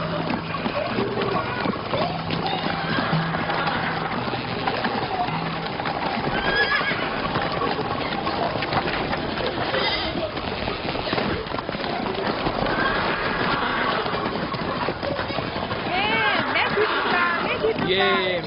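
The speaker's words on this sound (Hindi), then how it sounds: "मेरा घोड़ा ले जाओ।" Horse neighing and whinnying repeatedly over clip-clopping hooves at a run, loud and close throughout, set in a dramatized historical story with music or other sounds layered beneath.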